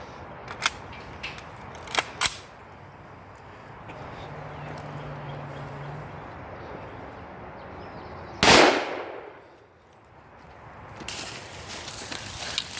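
A 300 Blackout rifle, 120-grain rounds, fires at bulletproof glass outdoors: a few sharp cracks early, then one loud close blast with a ringing decay, and a quieter burst near the end.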